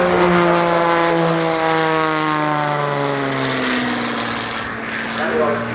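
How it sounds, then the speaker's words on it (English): An aerobatic propeller airplane performs at the 1989 Oshkosh airshow, its loud engine drone sweeping down in pitch as it passes and fades slightly, with a commentator talking over the sound. "That is one fantastic airplane."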